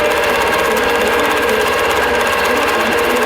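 Computerized quilting machine sewing a row across a quilt, loud and close, with a dense, steady rapid needle chatter and motor drone holding constant throughout.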